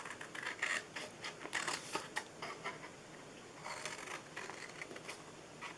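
Scissors cut small squares out of paper, giving faint, crisp snips that come in loose clusters with short quiet gaps between them.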